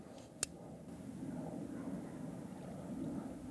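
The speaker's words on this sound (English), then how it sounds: "Now when I plug it in, our pump should start running." Small water cooling pump in a custom GPU loop starts with a brief click, then settles into a faint, steady low hum and gurgle close by, with no one talking.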